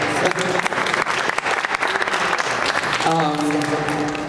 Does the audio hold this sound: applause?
yes